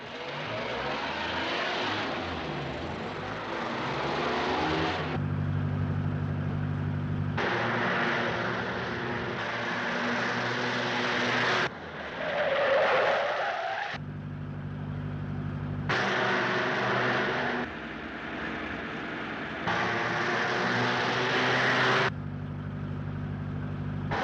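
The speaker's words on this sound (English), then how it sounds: "You handle your car quite well." A 1930s car driven at speed, its engine droning steadily and loudly throughout with shifting tone, as if cutting between inside and outside the moving vehicle; no one speaks.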